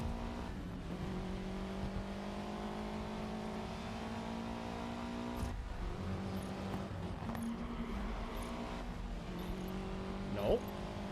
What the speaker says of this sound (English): Now I don't have to push. I can just drive the car.